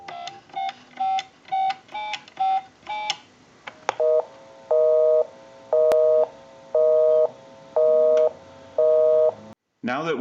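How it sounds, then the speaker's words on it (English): A quick run of touch-tone dialing beeps on a Western Electric 317 wooden wall telephone, then a steady repeating busy signal pulsing on and off in even, loud bursts, ending with a brief click. "we'll call my number, and it'll be busy"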